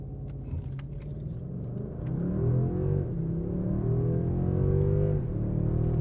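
From inside a 2022 Mercedes-Benz S 580 in Sport Plus mode, the engine idles as a low hum, then swells into a smooth, rising roar as the car launches hard from a brake-boosted start, loud and steady.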